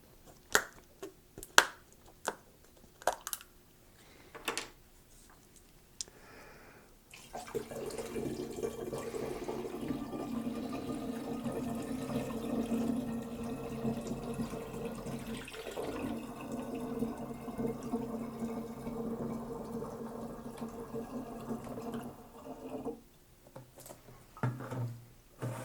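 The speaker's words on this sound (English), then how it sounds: "add in 1 of our containers of pear juice" Pear juice poured from a container into a vessel of mead, a steady gurgling, splashing stream that runs for about fifteen seconds, framed by scattered handling clicks and taps before and after.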